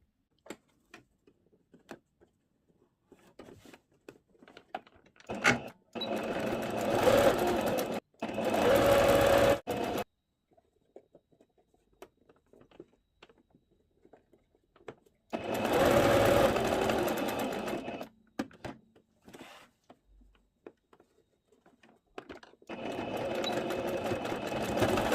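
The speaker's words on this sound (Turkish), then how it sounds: "Belirttiğim kısımları dikiyorum makinede hızlı." Sewing machine stitching the hem of a bed sheet, running in several fast rattling bursts of a few seconds each, separated by quiet stretches with soft handling clicks and fabric movement.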